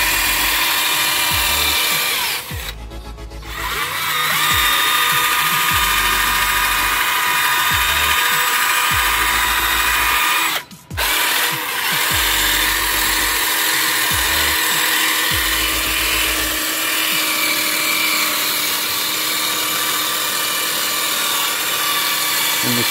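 A power drill spinning a polishing cone on a wheel rim whirs loudly and steadily, grinding against metal with a rough buzzing drone, briefly pausing twice before spinning up again.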